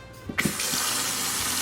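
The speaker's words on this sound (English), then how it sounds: "Put some water in." Water runs from a kitchen tap into a bowl, a steady broadband gush starting abruptly after a few soft knocks and continuing loud and unbroken.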